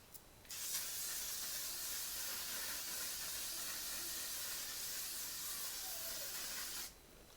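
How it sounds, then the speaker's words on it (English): A L'Oréal makeup setting mist sprayed in one continuous burst of about six seconds, a close, even hiss that starts and stops abruptly. "And then I'm going to go in with my LOREAL setting mist."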